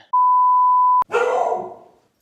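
A trained dog barks once on command, a single loud, close bark right after a steady electronic beep tone, with a short fading tail.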